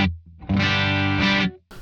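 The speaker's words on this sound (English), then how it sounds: "clean sound bridge pickup with the reverb completely off" Clean electric guitar on the bridge pickup with reverb switched off, played through a NUX Tape Echo: a short plucked chord rings out, then stops abruptly with a quick tail.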